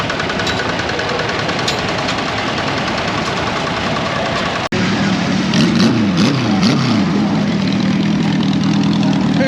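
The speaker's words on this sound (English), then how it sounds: "Old Sears lawnmower." An old Sears lawnmower engine runs loudly and close at an outdoor tractor show gas-up, a steady knocking mid-pitched drone with a sharp click partway through and rising, wavering revs afterward.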